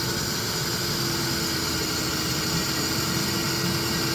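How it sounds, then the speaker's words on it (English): Electric cooling fans spin on a 2000 Chrysler Grand Voyager SE, heard as a steady, moderately loud broadband whir with an even hum and no changes in pitch across the whole stretch. "It's spinning the fans."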